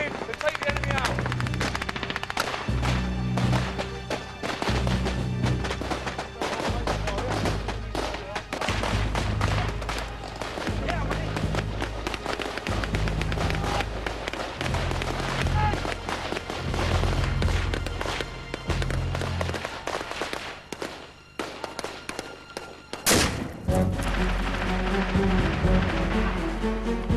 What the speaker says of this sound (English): We've got maximum fire going down while they assault the dead section.